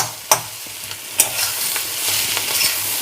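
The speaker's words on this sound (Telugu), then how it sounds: "నేనైతే మీడియం ఫ్లేమ్లోనే చేస్తున్నాను ఇది మీరు స్లో పెడితే సరిగా ఫ్రై అవ్వదు మీకు కలర్ ఎంత అవసరమో చూసుకొని అంతవరకు మనం ఫ్రై చేసుకోవాలి దీన్ని" Spiny gourd slices frying in a pan over a medium flame, with a close, steady sizzle and a few sharp clicks of a spatula stirring and turning the pieces.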